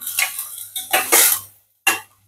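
Chopped mixed vegetables are stirred and sautéed in a pan over high flame, with a spatula scraping and clattering against the metal in a few quick bursts. The strokes are close and fairly loud, followed by a short pause, with no talk.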